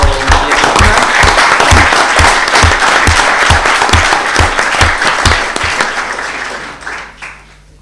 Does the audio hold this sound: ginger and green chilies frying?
no